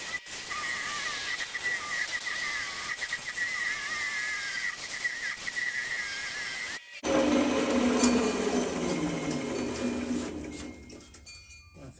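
A maple and purpleheart segmented turning being parted off on a wood lathe, a steady whirring hum with a tonal ring, then after a brief break a harsher scraping cut with falling pitch as the tool bites in.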